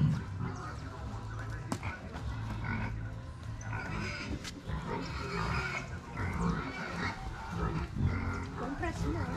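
Repeated low grunts and snorts from a pig, close and irregular, mixed with scuffling and people talking in the background.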